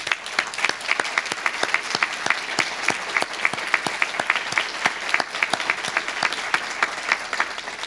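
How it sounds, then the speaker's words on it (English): Sustained applause from an audience at a foundation gift announcement, dense steady clapping with sharp individual claps standing out, loud and continuous. "they're the ones that really deserve a round of applause and credit"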